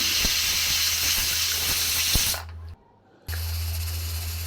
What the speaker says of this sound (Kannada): ಮೂರು ವಿಷಲ್ ಆಯಿತಾ ಅಂತ ನೋಡಿಬಿಟ್ಟು ಫ್ಲೇಮ್ನ ಆಫ್ ಮಾಡ್ತೀವಿ